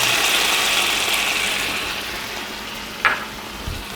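White wine hitting a hot ceramic non-stick pan of blistered tomatoes for shrimp scampi: a steady broad sizzle that fades slowly, broken near the end by a brief sharp hiss and a soft clunk.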